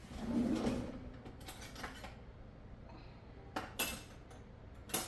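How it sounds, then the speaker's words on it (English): A spoon is taken from a kitchen drawer: a soft slide and a couple of light metallic clinks, quiet and close, while baking a tres leches cake with evaporated milk. "Let me grab a spoon."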